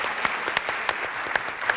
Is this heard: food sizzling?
no